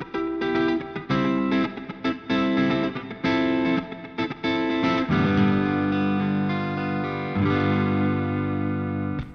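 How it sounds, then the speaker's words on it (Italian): An electric guitar played through its P90 neck pickup with distortion rings out in chords and sustained notes, some cut short, others left to ring fully, loud and close without any talking. "È un pick up bellissimo perché dopo sentirete quanto si riempie in distorsione, però è proprio morbido, caldo, tondo, se sentite."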